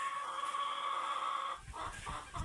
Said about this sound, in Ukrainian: Квочка.